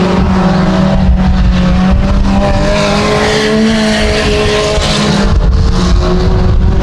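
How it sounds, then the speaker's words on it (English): Mini stock race cars roar around a dirt track, engines loud and sustained with a steady drone and rising revs as the cars pass close by. "here goes Brumstead past the 8W machine of Cody Wise"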